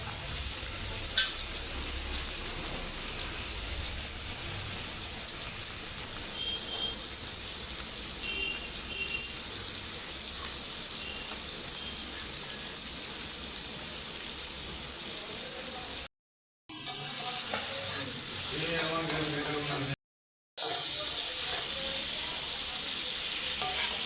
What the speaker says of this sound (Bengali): আমার সর্ষের তেল দিয়ে নিয়েছি, এবার পেঁয়াজগুলো দিয়ে দেবো।